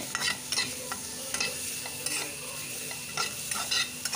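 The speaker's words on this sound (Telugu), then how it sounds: "కొంచెం కరివేపాకు, 2-3 పచ్చిమిర్చి అవి కొంచెం లైట్గా వేయించి, ఉల్లిపాయ ముక్కలు లైట్గా వేయించి" Onion slices, curry leaves and green chillies fry lightly in a pan with a steady soft sizzle, broken by several scraping stirs of a spoon at close range, with no voices.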